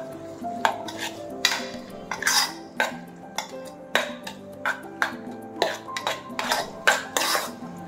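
Chopped onion, coriander, salt, masala and turmeric are mixed in a bowl, giving a close series of clinking spoon-on-dish knocks and soft scraping stirs in an uneven rhythm.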